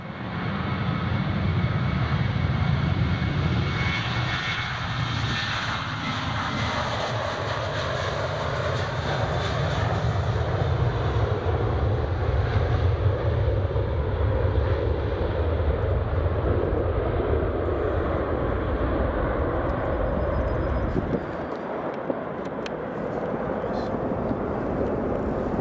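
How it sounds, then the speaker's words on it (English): A Jet2 airliner takes off at Edinburgh Airport, its engines building into a loud, sustained roar that holds for around twenty seconds before easing slightly. People talk faintly underneath. "Right, here goes the Jet 2."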